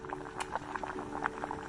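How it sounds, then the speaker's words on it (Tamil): Shark meat simmering in water in a kadai pan on the stove, giving soft, quiet bubbling with scattered small pops at a close, low level. "ஒரு கடாயில் தண்ணி ஊற்றி சொராவை இப்போது நம்ம வேக வைக்கிறோம்."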